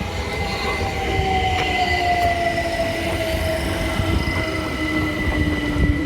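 Former Gatwick Express Class 387 electric trains passing, with a steady rumble of wheels on rail, a long high squeal sliding downward, and occasional clanks, close and continuous.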